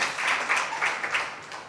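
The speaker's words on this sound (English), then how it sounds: "Let's clap for them now again." Audience applause at a German science forum, a steady wash of many hands clapping close by, continuing throughout with no voices.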